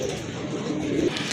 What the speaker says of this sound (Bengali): খুবই ভালো মানের এক জোড়া সাদা ইন্ডিয়ান বোম্বাই কবুতর